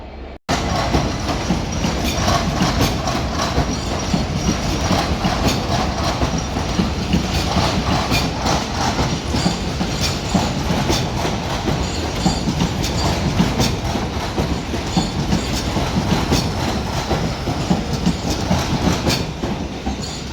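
Class 387 electric trains departing London Victoria station, with continuous loud rumble and rhythmic clickety-clack of wheels over rail joints throughout, close by and with no talk.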